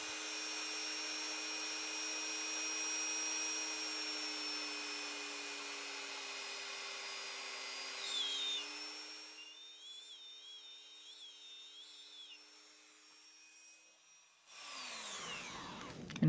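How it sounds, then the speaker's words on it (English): A power drill drilling into an action figure's arm whines steadily for several seconds with a high, slightly wavering pitch, then cuts out and briefly restarts near the end. "now we're going to drill into the arm"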